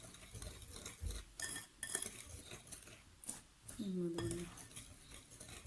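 Spoon or whisk stirring brownie batter with cacao powder and flour in a bowl, scraping and clinking irregularly up close, with a brief squeak and faint background noise, no speech.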